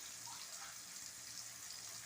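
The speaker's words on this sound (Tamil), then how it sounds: "நம்ம தண்ணி ஊற்றிடலாம்." Water pours in a steady, hissing stream into a pan of cooked vegetables for upma, a soft continuous splash with no voices.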